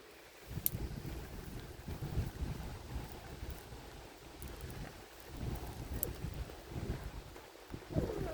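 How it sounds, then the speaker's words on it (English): Strong wind buffets the microphone in rough gusts at a campsite, with rumbling low noise and occasional flapping or clicking sounds from a tent. "we're just currently stopping the tent from blowing away because it's really windy"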